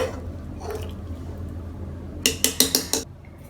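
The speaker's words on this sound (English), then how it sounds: "Just switch off the flame and transfer it into the serving dish." Moringa (drumstick leaf) porridge being transferred from the pan into a serving dish after the flame is switched off: a quick run of five or six clinking, scraping utensil-on-dish hits near the end, close and moderately loud over low kitchen hum.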